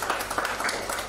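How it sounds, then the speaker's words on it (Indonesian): Gathered crowd at an Indonesian gathering breaks into brief applause, a short burst of scattered hand claps of moderate loudness. "Tepuk tangan dong."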